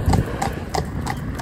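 A pony's hooves clip-clop at a steady walking pace on a road in town traffic, each strike clear and close against a low background rumble.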